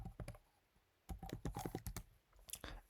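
Typing a search on a computer keyboard: quick clusters of close, crisp key clicks, a short pause, then a denser burst of rapid keystrokes.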